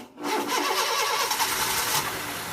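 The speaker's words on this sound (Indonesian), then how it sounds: "Sekarang kita coba starter." A Honda Jazz IDSi engine cranks and catches after carbon cleaning, firing up quickly into a loud, close rev before settling toward idle, with no voices heard.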